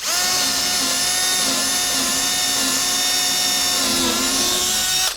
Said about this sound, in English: What I'm doing right here is drilling holes for the wires to go